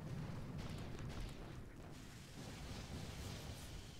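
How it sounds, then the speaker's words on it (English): Artillery shells exploding in the mobile strategy game Boom Beach, rumbling low blasts and bursts rolling one after another, fairly faint and distant with continuous battlefield noise. "One artillery, two artillery."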